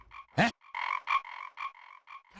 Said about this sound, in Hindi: ये लड़का मेंढक है, मेंढक।